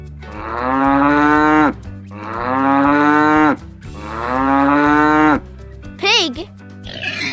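A cow gives three long, loud moos one after another, each drawn out and sagging at the end, followed by a short squeaky chirp and a brief rustle.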